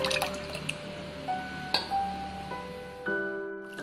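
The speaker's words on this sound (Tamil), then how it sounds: "மீதியான தயிரையும் நான் இதில் ஊற்றிக்கிறேன்." Leftover curd is poured into a container in a kitchen, giving wet glugging and dripping sounds with a few sharp splashy pulses and tones that shift as the vessel fills, heard close up with no talking.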